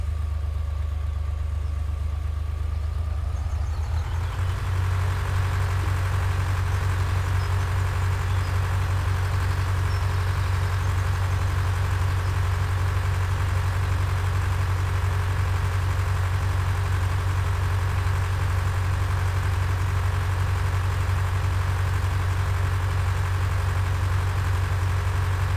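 A tractor engine from a farming video game idles with a low, steady rumble, then revs up and settles into a constant, loud drone for the rest of the clip, with no talking over it.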